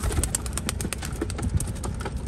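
A racing pigeon being readied for its next race is handled close up, with rapid fluttering wingbeats and rustling, brief soft bird calls scattered through.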